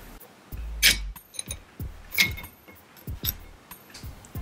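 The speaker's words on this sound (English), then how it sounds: "Next, add one of our crystal clear ice cubes." A crystal-clear ice cube dropped into an old fashioned glass gives a bright clink, followed by several smaller clinks and knocks of glass and ice spread over a few seconds, close and quiet.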